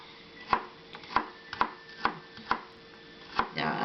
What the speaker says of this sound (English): onions, I'm going to chop it also the same as the garlic